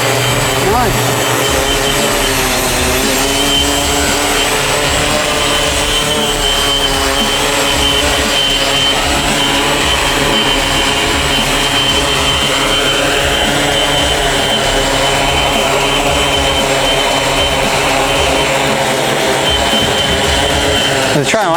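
A DIY Ardupilot multicopter's electric motors whine loudly and steadily as it flies in and settles down to land, the rotor drone shifting pitch slightly throughout with no gaps.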